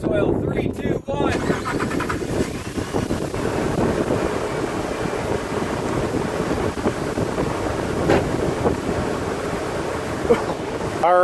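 A 2007 Ram 1500 with a 5.7L Hemi V8 cranks and fires up for its first start after an engine flush, then settles into a loud, steady idle outdoors with wind buffeting the microphone.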